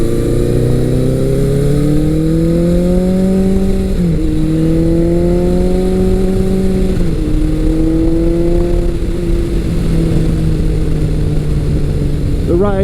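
A Suzuki GS1100 four-cylinder motorcycle engine pulls smoothly from low revs, its steady drone stepping up through gears in a few long rising sweeps, loud and close throughout.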